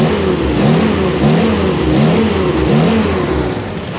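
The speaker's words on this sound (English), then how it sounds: "All right, and then we'll throttle it." A 1949 Willys engine fitted with an alternator revs under throttle, its mid-pitched drone rising and falling in several repeated surges over a steady running rumble, close and loud with no talk.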